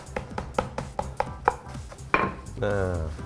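Digestive biscuits being crushed in a bag for a cheesecake base, a run of sharp, regular pounding thuds at a close, loud level, followed by a rustling, grinding burst near the end.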